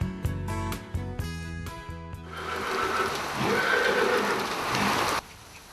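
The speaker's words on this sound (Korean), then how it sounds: "겨울비가 내리는 다음 날." Winter rain falls steadily on a horse farm, a broad hiss that rises after a few seconds of musical notes and cuts off abruptly near the end.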